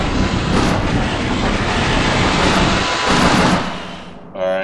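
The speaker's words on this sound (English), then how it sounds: "Alright, so the train's gonna stop." A train in the Half-Life video game rumbles loudly and steadily, then fades as it comes to a stop near the end of the few seconds, with no talk over it.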